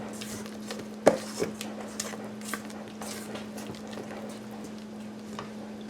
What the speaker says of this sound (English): 3/4 of a cup of whole milk. And we're just going to stir that in.